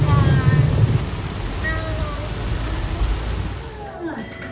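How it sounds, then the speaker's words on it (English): Steady rain pours down in a continuous hiss, with faint voices and a low rumble in the background. "It's raining here too."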